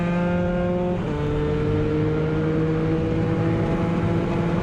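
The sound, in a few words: Moto3 racing motorcycles going into a corner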